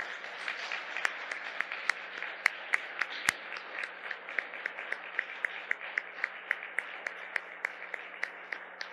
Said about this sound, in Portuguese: A cerimônia aconteceu sob uma grande salva de palmas.